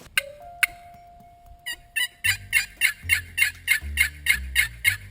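A wild turkey gobbles in the open during a hunt, starting with a few sharp calls and then a rapid series of loud, rhythmic gobbles. It sounds fairly close and carries clearly over quiet woods.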